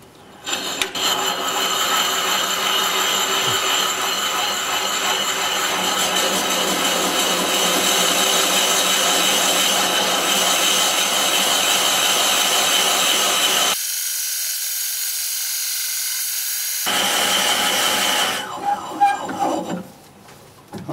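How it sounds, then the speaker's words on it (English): A 2-inch Forstner bit bores into chestnut wood on a lathe spinning at 175 RPM, giving a loud, steady grinding and whirring drone that runs for most of the stretch before cutting out briefly and then returning and tapering off. "I'm just going to go ahead and drill it"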